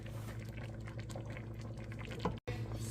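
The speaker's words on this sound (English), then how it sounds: "I'll let it boil a little bit." Chicken broth bubbles and simmers in a pot on the stove, a soft steady boiling texture that continues throughout, with no speech.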